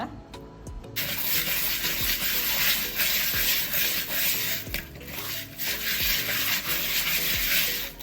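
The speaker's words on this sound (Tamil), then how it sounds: "மண் சட்டியில் கொஞ்சமாக கல் உப்பு போட்டு இப்படி உரச பாருங்கள்" Small fish are rubbed with rock salt against the inside of a clay pot to scrape off their scales, producing a continuous gritty scraping and rubbing, close and loud, with regular stroke-like swells.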